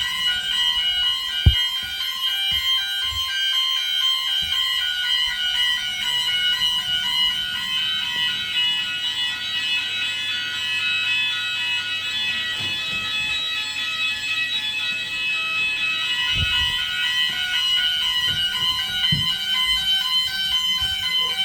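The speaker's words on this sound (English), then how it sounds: "a faulty fire alarm went off and we had to suffer this noise for a couple of hours" A faulty fire alarm sounds continuously: a loud, steady electronic tone pulsing in a fast regular pattern without letup, filling the space with only faint occasional knocks beneath it.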